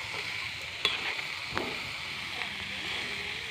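Mustard seeds and curry leaves with salt frying in oil in a clay pot while being stirred: a continuous sizzle with occasional scrapes and light knocks of the spoon, and faint talk underneath.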